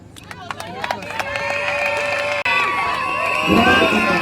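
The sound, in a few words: audience applause and cheering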